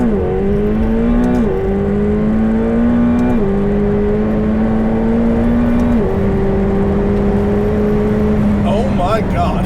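McLaren 720S launching and accelerating hard, engine note climbing repeatedly as it shifts through gears, loud and close, with a voice talking over it.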